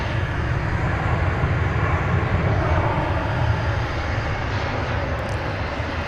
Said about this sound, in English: Flight 192, a 7879, off to Istanbul.